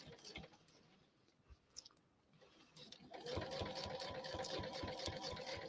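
A sewing machine stitches a quilt, starting with scattered faint clicks and handling sounds before a steady, fast mechanical whir kicks in and runs close and even to the end.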